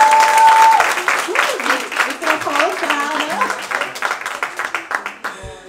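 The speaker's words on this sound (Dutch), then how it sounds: "applaus voor Orlando." An audience applauds at an evening discussion event on Afro-Surinamese parenting, a dense, steady wash of clapping that tapers slightly over several seconds, with a voice starting to speak as it ends.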